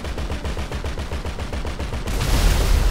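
Rapid automatic gunfire in GTA V, a steady burst of closely spaced shots for about two seconds before it smears into a louder, denser wash of blasts and noise, with no talking.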